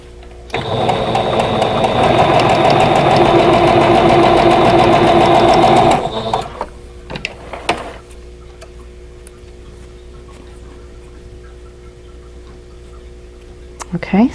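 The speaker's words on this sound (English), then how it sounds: "I'm just going to chain piece these together." A sewing machine chain piecing quilt patches with 50 weight thread runs steadily for about five seconds with a loud, fast rhythmic chatter, then stops. Faint clicks and handling noises follow in a quiet room.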